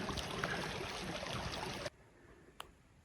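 Creek water flowing in a mountain wilderness area, a steady close rushing wash that suddenly drops to a faint distant murmur, with one brief sharp tick near the end.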